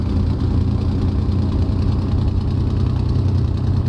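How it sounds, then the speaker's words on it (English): A Messerschmitt BF-109G's Daimler-Benz 605 engine idles in a flight simulator game, a steady loud low rumble with an even, gurgling beat that holds unbroken throughout, with no talk. "the engine gurgling away nicely now"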